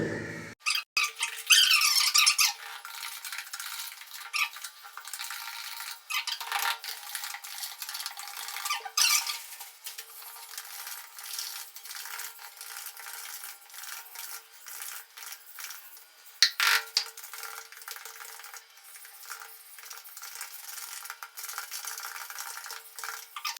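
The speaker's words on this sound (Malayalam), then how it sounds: "ഒരിക്കലും പൗഡറിലേക്ക് ലിക്വിഡ് ഒഴിക്കല്ല വേണ്ടത് ലിക്വിഡിലേക്ക് പൗഡർ എന്ന രീതിയിലാണ് നമ്മൾ മിക്സ് ചെയ്യേണ്ടത്" Waterproofing powder being stirred into a liquid mix for a bathroom waterproofing job, a steady close scraping and rasping churn that runs on for over twenty seconds with small squeaks and occasional louder strokes, no talking.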